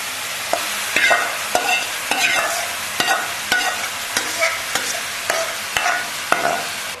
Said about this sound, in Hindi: ये जो कीमा मैरिनेट किया हुआ है इसको डाल दूंगी और अच्छे से इसको कुक कर लूंगी।